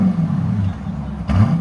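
A 2025 Dodge Durango R/T with a 5.7L HEMI V8 and Carven exhaust rumbles at a steady idle, then a short sharp rev near the end.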